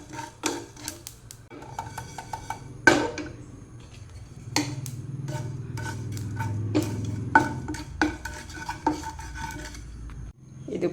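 Spices and shaped batter frying in oil in a home kitchen pan while making chicken saaru, with a soft sizzle under frequent metal spoon scrapes and clinks against the pan.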